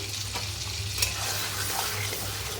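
Spice paste hits hot oil in a pan alongside fried potatoes, giving a steady sizzle and soft stirring close by, with one small knock of a utensil.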